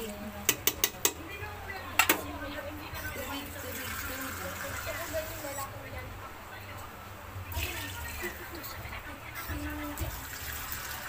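A few metal clinks, then water pours steadily into a cooking pot of chicken tinola with a soft, continuous splashing hiss, close by.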